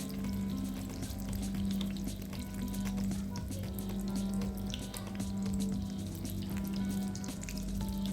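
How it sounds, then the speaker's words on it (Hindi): Chicken shami kababs coated in egg fry in hot oil in a pan, giving a steady, close crackling sizzle that runs without a break the whole time with no talking. "ऑयल को गर्म कर लेंगे और कबाब को अच्छी तरह से अंडा लगाकर उसको फ्राई कर लेंगे"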